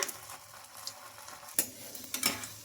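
An egg sooji bun dosa frying in a pan, with a faint steady sizzle and a few sharp clinks of a utensil against the pan as it is turned, close and quiet with no talking.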